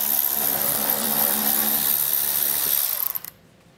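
Power tool spinning out 7 mm bumper fasteners during a trailer hitch install on a 2019 vehicle, a steady close whir that stutters and stops near the end.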